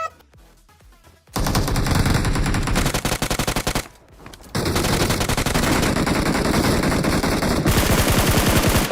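Video game gunfire during a Livik match: loud, sustained automatic bursts start after a quiet opening, cut out briefly near the middle, then return as dense, continuous rattling fire to the end.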